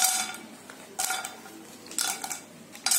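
Whole chole spices such as cinnamon, cardamom, black cardamom, cloves and bay leaves dry-roasted in a pan, with intermittent clinks and scrapes of a utensil against metal in short bursts over a quiet background.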